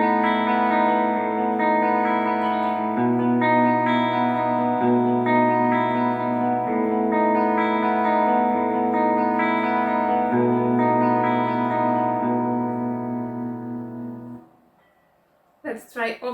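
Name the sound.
electric guitar with clean tone on ENYA Nova Go Sonic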